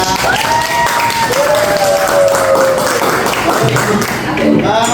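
Applause for students after their classroom presentations, a continuous loud clapping wash layered with voices and some whistling or tonal sounds on top.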